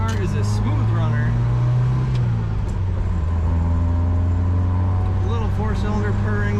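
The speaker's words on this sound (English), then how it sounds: "Little 4-cylinder purring." A 1977 MG MGB convertible with its 4-cylinder engine and 4-speed manual gearbox, heard from inside with the top up as it drives. The engine gives a steady, smooth low drone that stays even throughout.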